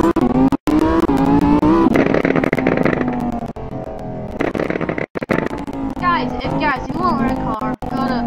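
Car engine in the Roblox game Driving Empire droning steadily with rising and falling revs and a brief tire squeal, driven in first-person view, with people talking over it.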